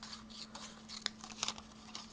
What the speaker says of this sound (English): I may not be cutting it perfect, but I'm trying really hard to not leave any black around the image